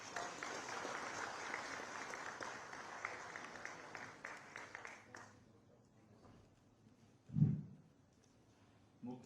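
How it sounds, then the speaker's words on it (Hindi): Applause from the audience at a government appointment-letter ceremony in Dehradun, a broad steady patter for about five seconds that cuts off, followed by quiet room tone and a single low thump. "तालियों के साथ स्वागत।"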